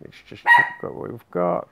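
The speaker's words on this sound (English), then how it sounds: "The dog barks at a van that's going down our street." A pet dog barks at a van passing down a residential street, a few sharp yappy barks and a whine heard close by, with someone talking in between.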